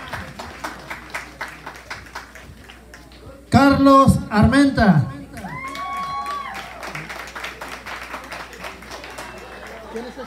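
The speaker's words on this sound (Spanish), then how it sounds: "Fuertes los aplausos" Guests at a quinceañera birthday party ceremony clapping lightly and sporadically, with an announcer speaking loudly over a sound system midway and music faintly underneath.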